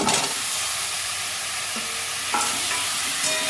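Pumpkin, potato and fish with turmeric sauté in a pan for a curry, a close, steady sizzle with a couple of brief utensil scrapes in a short burst, without speech.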